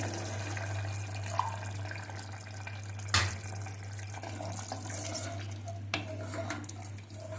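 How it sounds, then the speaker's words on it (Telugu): Half a glass of water is poured into a pot of mutton curry cooked with tender tamarind leaves, a soft splashing pour over a steady low hum, with a couple of faint clinks of utensils against the pot. "ఒక 1/2 గ్లాస్ నీళ్ళు వాటర్ పోస్తున్నానండి."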